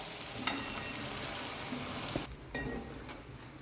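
Steamed spinach and fenugreek muthiya dumplings dropped into hot tempering of mustard seeds, coriander-cumin, asafoetida and white sesame: a loud, dense sizzle with a few stirring clinks, dropping briefly then surging again.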